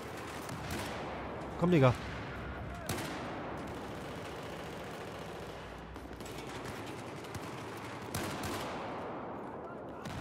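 Saiga shotgun fire in a Battlefield 4 team deathmatch, a short loud burst of shots standing out over constant battle noise, with someone talking.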